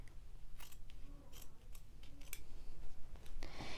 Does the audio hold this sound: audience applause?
no